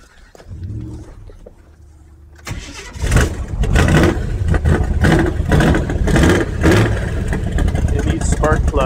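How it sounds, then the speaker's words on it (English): A big block Chevy engine that is running lean cranks briefly, catches and roars into a loud, uneven, rough running that surges in rhythmic pulses, with a person talking and a dog faintly audible. "now it's running real so lean it won't idle"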